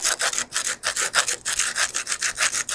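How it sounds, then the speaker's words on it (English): A keyhole saw with rough teeth rasps back and forth through mortar in a brick wall in quick, regular strokes, each stroke a gritty scraping burst, close and loud with no talking. "using a keyhole saw. Nice rough teeth."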